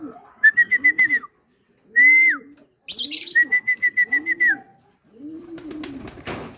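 Birds at a racing pigeon loft give repeated pulsing whistles and low coos in several close, clear bursts, followed by rustling and flapping as a racing pigeon arrives at the loft.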